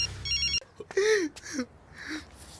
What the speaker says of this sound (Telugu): ఫోన్ ఎందుకు తీయలేదన్నా?